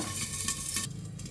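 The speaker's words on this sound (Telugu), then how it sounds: "చూడండి, పచ్చిమిరపకాయలు ఈ విధంగా వేగాలి." About ten green chillies fry in oil, making a close hissing sizzle with light crackles and a brief stirring scrape, fading slightly toward the end.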